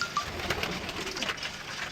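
Pigeons of rare, prized breeds coo softly in a rooftop loft built from painted buckets, a low murmuring under faint background noise, with a brief higher bird chirp near the start.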